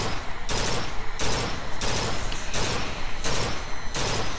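Gunshots in BioShock Infinite crack out in six evenly spaced bursts, each a loud, sharp report with a brief decaying tail, steady rhythm about every two-thirds of a second, no voices.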